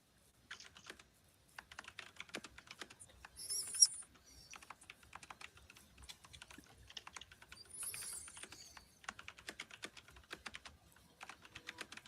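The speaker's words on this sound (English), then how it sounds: "I'm just typing in the latest edition we just said." Typing on a computer keyboard during a regular meeting, with steady bursts of quiet, close key clicks and short pauses between runs, faint overall.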